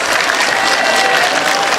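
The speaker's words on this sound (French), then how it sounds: "Alors c'est le moment de les applaudir." Applause for Red Cross first-aid rescuers after a rescue drill at a school, a dense burst of clapping from a crowd, loud and continuous for its short length.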